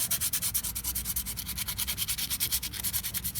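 Hand sanding of surface rust on a Porsche 944 body panel with 180 grit sandpaper, fast rhythmic back-and-forth rasping strokes, close and steady throughout, with no talking.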